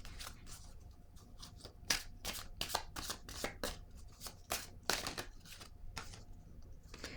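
Oracle cards being shuffled and drawn by hand, a run of crisp riffling and slapping bursts at an uneven pace, close and fairly quiet, with no talking.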